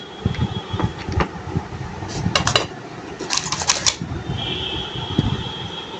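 A freshly baked banana cake, cooled slightly, is slid out of its pan onto a plate, giving a few soft clinks, scrapes and clatters of pan and dish against a quiet background.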